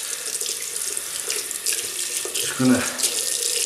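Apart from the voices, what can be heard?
water running from a tap into a sink while shaving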